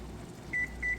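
An oven control panel beeps twice as the timer is set, giving two short electronic tones over a low background hum.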